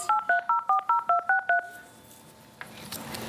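A run of eleven crisp touch-tone dialing beeps, evenly spaced and loud, placed to make a live phone call on a television talk show, followed by quiet line hiss and faint room noise.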